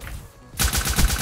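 The nail gun SMG in Black Ops 3 fires a rapid, loud automatic burst of evenly spaced shots. A short quieter lull comes before the burst, and there is no talking.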